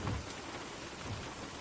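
Heavy rain pours continuously with a low rumble of thunder, a dense, even hiss filling the scene with a deeper boom at the start and another faint one midway.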